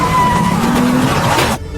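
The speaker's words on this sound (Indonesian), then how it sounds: "Lalu mobil itu langsung dijalankan ke danau." A car in the film The Beekeeper is driven toward a lake, dragging a man tied to it by a rope, with a loud, sustained engine roar and tire skid that cuts off abruptly near the end.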